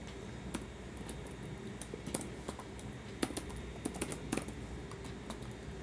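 Quiet, irregular clicking of keys on a computer keyboard, a run of light taps and a few sharper strikes, close but low in level with no talking.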